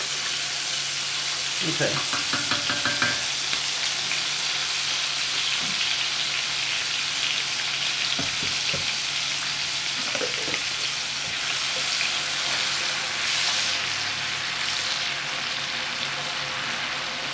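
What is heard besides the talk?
garlic sauteing in a pan with butter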